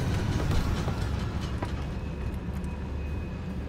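Train rumbling past in the video game Killzone Shadow Fall, a steady loud low roar with faint rail clatter, alone with no voices.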